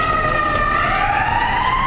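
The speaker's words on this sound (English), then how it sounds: "And you can hear the ambulances." A wailing ambulance siren sweeps up and down steadily, loud and continuous, with a rumbling traffic background on a downtown Chicago street and no talking.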